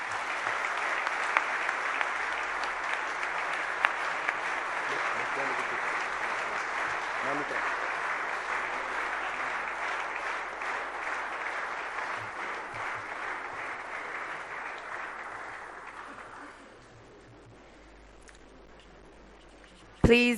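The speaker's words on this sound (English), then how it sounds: "give His Excellency Prime Minister Abiy Ahmed another warm round of applause" Steady applause from a large audience at a park inauguration ceremony in Ethiopia, filling the hall for about sixteen seconds before tapering off into quiet room tone, with a brief loud burst at the very end.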